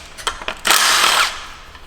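On a BMW N63TU 4.4 turbo V8, a power tool loosens a timing chain rail bolt: a few short clicks, then one loud, close, high-pitched whirring burst lasting about half a second, fading into quiet.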